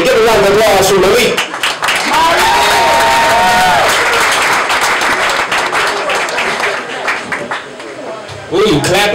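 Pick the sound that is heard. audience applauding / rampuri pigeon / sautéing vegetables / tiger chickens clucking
audience applauding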